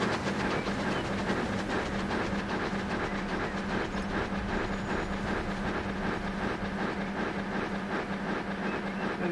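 Trains running on rails in Transport Fever 2, a continuous rolling rumble with rhythmic clickety-clack and a steady hissing layer, constant in loudness throughout.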